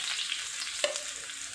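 Garlic, shallots and ginger sizzle and fry in a hot pan, a steady close crackle with a light stir clank partway through.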